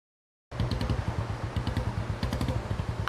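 After a brief silence, a motorcycle engine starts chugging steadily and rhythmically nearby, a low pulsing putter that keeps going.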